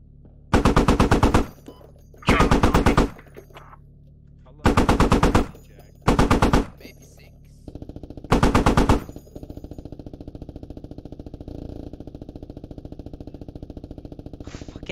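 Machine gun fire in the Squad military shooter game: five loud, close bursts of rapid automatic shots separated by brief pauses, followed by a steady engine-like drone.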